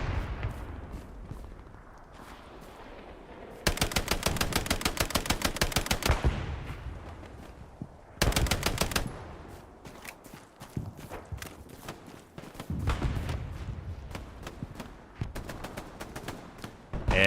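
Grease gun firing in a World War II video game battle at Hill 314 near Mortain, heard as several distinct rapid bursts of automatic fire separated by quieter stretches with scattered shots and background battle noise.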